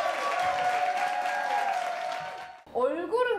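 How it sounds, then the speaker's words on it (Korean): A small group of people clapping in a studio, a brief bright burst of hands that fades out, followed by speech and laughter. "박수."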